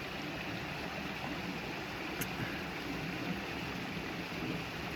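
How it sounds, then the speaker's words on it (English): A river flowing beside a quiet rock seat, heard as a steady, even broadband rush of water that fills the whole clip with no voices and no breaks. "I could just look at the river"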